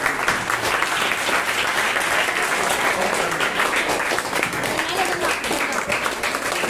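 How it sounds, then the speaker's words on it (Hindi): Loud, dense applause from a crowd fills the whole stretch at steady volume, with voices mixed into the clapping throughout. "एक बार भाई जोरदार तालियां बजा"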